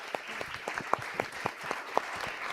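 Scattered, light clapping from a small conference audience thanking a panel, with individual claps standing out sharply over a soft, steady patter.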